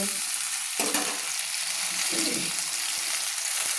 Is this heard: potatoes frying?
yes